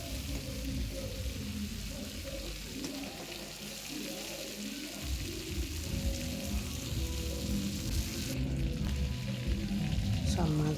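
Pangas fish pieces fry in oil with a continuous, fairly quiet sizzle lasting throughout, with some watery hiss and occasional stirring noises. No clear talk.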